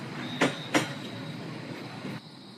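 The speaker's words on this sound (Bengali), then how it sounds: "এমন সময় ট্রেনের হুইসেলের শব্দ শুনতে পাই আমার ট্রেন এসে গেছে" A cartoon sound effect of a night train arriving: two sharp, loud bursts in quick succession, then a steady rolling rumble that fades away.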